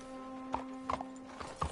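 Horse hooves clip-clop at a steady walk in Red Dead Redemption 2, a quiet run of hoofbeats over a low hum of game ambience.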